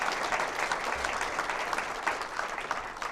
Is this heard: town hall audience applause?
yes